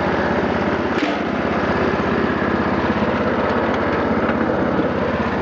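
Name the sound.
Massey Ferguson 14 mower engine running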